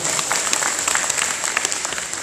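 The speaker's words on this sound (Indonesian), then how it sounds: "Tepuk tangan dulu Istiqomah." Audience applause at a volunteer briefing rally in Klaten, Central Java, a steady burst of dense clapping from a crowd filling the short moment without talk.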